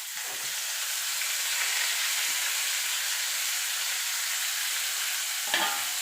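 Garlic and black cumin fry in hot oil with a steady, bright sizzle and hiss, then a brief louder crackle near the end as bottle gourd leaves hit the pan, with no talking.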